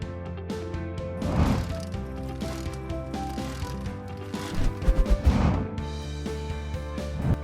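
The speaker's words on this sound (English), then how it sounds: "Tommy bar plus suitable socket." A tommy bar turning a socket through a ratchet mechanism gives two short bursts of rapid clicking, at about one second and five seconds in, over steady background music.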